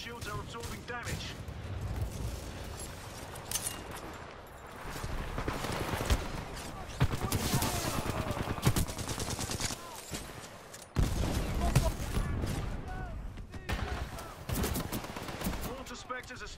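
In the Titanfall 2 Frontier Defense mode on the Homestead map, Mortar Spectres shell the harvester amid dense gunfire and thudding blasts, with bursts of rapid shots and heavy impacts, while players and in-game radio voices talk over the battle.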